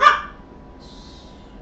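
A dog reacting to a blender gives one sharp, close bark, followed by near quiet with a faint high hum.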